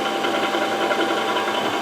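Three-phase motor driven by a 5 HP single-to-three-phase variable frequency drive at 14 hertz, giving a steady close whirring hum with a faint buzzy whine throughout.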